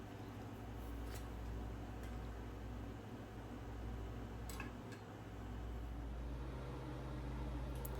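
Two slices of Applegate uncured, no-sugar bacon fry in a pan with a steady, soft sizzling hiss over a low continuous hum. The level stays even throughout, with a few faint clicks.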